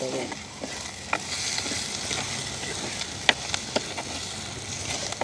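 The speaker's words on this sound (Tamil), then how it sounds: "அதோட வெட்டி வச்சுருக்கிற தக்காளி பழத்தையும் சேர்த்துக்கொள்வோம்" Chopped tomatoes stirred into onion and green chili frying in a pan in a village kitchen, with a steady loud sizzle and occasional scraping stir clicks throughout.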